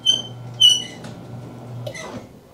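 A loose garage door opener belt gives off high, thin squeaks: two sharp bursts near the start and another toward the end, set over a steady low motor hum, fairly close.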